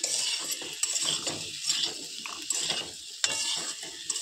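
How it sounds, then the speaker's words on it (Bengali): Pumpkin is stirred and fried in a pan, with frequent scraping and clinking of a utensil over a soft, low sizzle, fairly quiet and with no speech. "এটাকে ভালোভাবে ভেজে নিতে হবে, না তো কুমড়োর গন্ধ লাগবে যে।"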